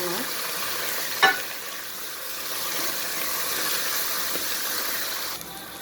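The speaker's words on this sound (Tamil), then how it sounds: "பாருங்க, கத்திரிக்காய் வதங்கிடுச்சு." Brinjal pieces frying in a pan for sambar, giving a dense, continuous hissing sizzle with one sharp utensil knock early on, close and steady until a slight drop near the end.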